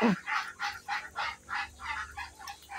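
Muscovy ducklings, around one to six weeks old on a farm, give a string of about nine evenly spaced, fairly loud peeping calls in steady rhythm, close by with no talk.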